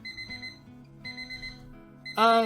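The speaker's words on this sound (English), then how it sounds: "So, should I turn off the alarm?" An electronic alarm clock rings in the visual novel Hime to Otome no Yakimochi Love, a repeating tonal beeping pattern in short bursts with a brighter, louder chime at the end; no talking.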